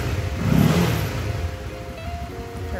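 A Honda CB150R Streetfire motorcycle in neutral revs once, a close engine rise and fall that settles back into a steady idle hum.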